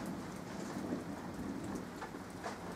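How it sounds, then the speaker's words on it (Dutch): A thunderstorm over a campsite in Drenthe: steady rain patters on surfaces while low thunder rumbles underneath, faint and continuous. "Ah, best hard onweer hier."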